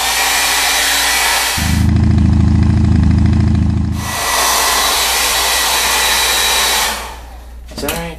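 A hair dryer blows on wet paint, a steady loud whoosh with a motor hum that drops in pitch partway through, then cuts off near the end with a short clatter.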